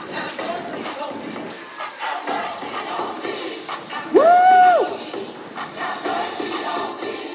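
Crowd at a volunteer fire brigade open-house event in Mirano gives a brief collective yell, bursting out loudly for under a second amid ongoing chatter, a rising whistle-like tone and ambient noise.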